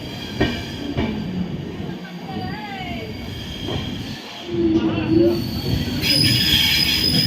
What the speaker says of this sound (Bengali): এখন বর্ধমান ছেড়ে যাচ্ছে ট্রেন